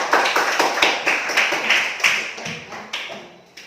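Classroom students clapping together in a rapid, uneven volley of many hands, loud and close, tapering off slightly toward the end.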